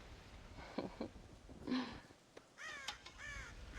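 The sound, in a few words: crows cawing, from the video game Red Dead Redemption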